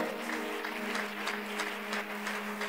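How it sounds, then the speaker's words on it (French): A church congregation applauds the Lord with steady, sustained clapping over a droning organ or keyboard chord, moderately loud and continuous throughout. "Est-ce que quelqu'un peut acclamer le Seigneur?"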